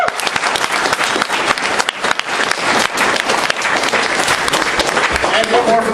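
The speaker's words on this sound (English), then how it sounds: "Ladies and gentlemen, another round of applause" An audience breaks into loud, dense applause with clapping and some cheering, while a voice talks over it.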